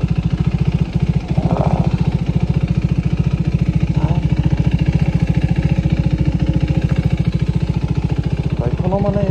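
A modified KTM RC 390 BS4 motorcycle's engine runs close by with a steady, rapid pulsing beat, while a voice talks over it.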